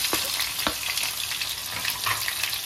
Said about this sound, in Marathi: आता कांदा आणि मिरची एकत्र घालून घेते.